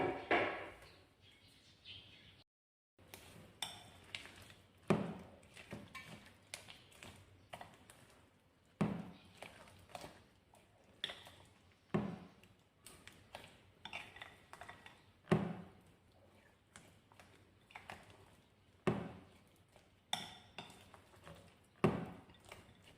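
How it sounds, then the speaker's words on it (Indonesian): Someone stirring vegetable and shrimp fritter batter in a bowl, with repeated scraping taps and knocks that come in a loose rhythm, faint and close. "Lalu kita aduk sampai tercampur merata"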